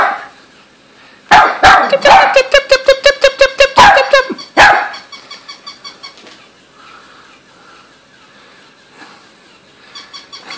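A Chihuahua barks in a rapid string of sharp, high yaps, loud and close at first, then fading to scattered fainter yips after a short pause.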